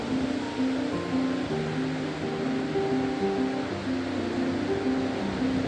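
Atlantic ocean waves roll and crash along the Portuguese coast in a steady, loud roar of surf, with no voices.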